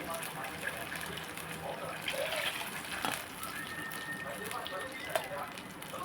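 Water gushes steadily into a pan for red broken-wheat upma for several seconds, a continuous splashing pour with light kitchen clatter.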